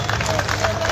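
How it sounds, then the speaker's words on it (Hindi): Crowd applause at an Urdu poetry mushaira in Mira Road, steady dense clapping from a large audience with a voice heard over it. "जोरदार तालियां बजाएं साहब"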